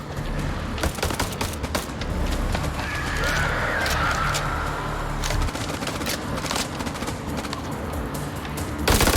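Rapid gunfire bursts in a chaotic video game firefight, dense and loud throughout, with crackling shots layered over a constant rumble and a brief shrill tone near the middle.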